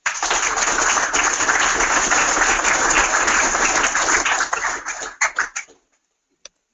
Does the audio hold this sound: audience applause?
yes